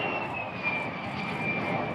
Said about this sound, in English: The first new F-35 fighter jet is in Madison, landing at Truax Field